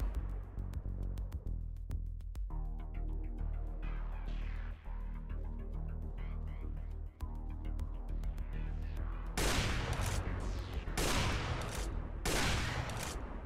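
Sniper shots crack in a video game's zombie mode. Several sharp, loud reports come in quick succession near the end, over steady, tonal game music.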